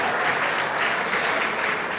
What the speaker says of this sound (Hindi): बजाइए ना भाई ताली